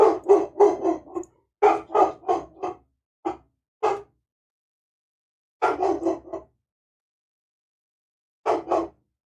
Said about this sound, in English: Loki, what are you barking at, buddy?